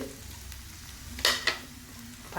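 Onions stir-frying in a pan, with a steady low sizzle broken by two sharp scraping clinks of a utensil against the pan near the middle.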